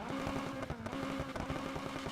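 Custom exhaust of a 1970 Volvo Amazon P130 in NFS Heat, a steady, raw, throbbing idle burble with rapid pulsing close up, alone without talk.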